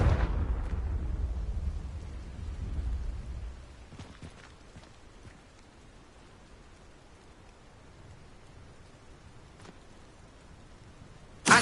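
An explosive Confringo spell in Hogwarts Legacy lets off a loud, deep blast that rumbles and fades over a few seconds. Quiet crackling follows, and a sharp new burst hits at the very end.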